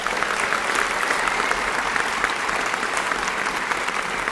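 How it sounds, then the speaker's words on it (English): Loud, sustained applause from a large audience at the New Mexico State of the State address, dense continuous clapping filling the hall evenly from start to finish, with no speech over it. "So let's give her one more round of applause."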